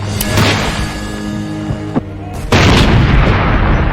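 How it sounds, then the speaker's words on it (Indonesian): A tank shell fired at German soldiers in a World War II film: a loud, sharp cannon blast near the end cuts through an ongoing rumble of battle, with a lighter thud shortly before it. "Datang Will tepat waktu yang langsung menembaknya dengan peluru tank"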